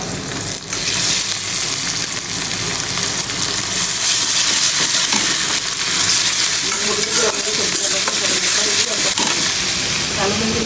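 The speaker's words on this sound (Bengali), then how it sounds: "এই তো মাছ বসাবো এখন পেঁয়াজ আর কাঁচামরিচ দিচ্ছি" Fish with onion and green chilli fries in a pan, producing a loud, dense, steady hiss and crackle that runs unbroken for several seconds at close range.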